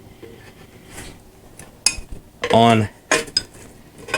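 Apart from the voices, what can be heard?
tire spoons levering a Michelin tire onto a Harley-Davidson motorcycle rim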